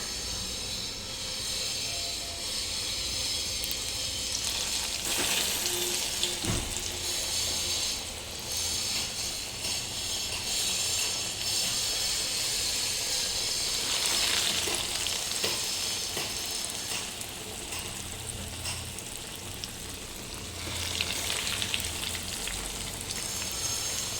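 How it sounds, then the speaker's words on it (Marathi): Veg creamy cheese pockets deep frying in hot oil over a medium flame, a steady loud sizzle and bubbling running throughout with occasional brief clinks, no talking. "आता एक एक करून तेलामध्ये सोडणार आहे"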